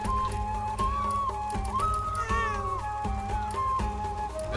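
Several drawn-out, pitch-bending meows come from a cat in the video game Kena: Bridge of Spirits, repeated one after another over a sustained low game soundtrack.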